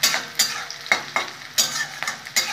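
Cauliflower and potato pieces frying in a pan, a continuous sizzle broken by about six sharp scraping stirs at a regular pace, close by and moderately loud.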